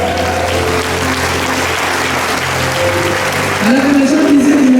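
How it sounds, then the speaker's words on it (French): Loud, steady applause from an audience at a Holy Spirit church conference, filling the whole stretch, with a sustained tone rising underneath toward the end. "On l'applaudit encore très fort."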